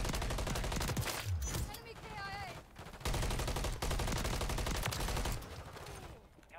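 Rapid gunfire from an MCW rifle in the video game Modern Warfare 3, heard as dense sustained automatic bursts with brief gaps, loud and close, with a short squeaky effect in the middle.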